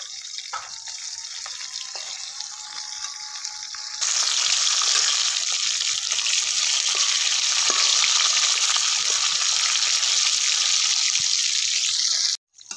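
Bata fish frying in hot oil with turmeric and salt, a steady loud sizzle that jumps louder partway through and holds, then cuts off abruptly at the end; no talking.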